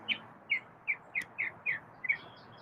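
A pet bird chirps in a steady series of about seven short, bright calls, evenly spaced and fairly close, with a faint hiss in the background.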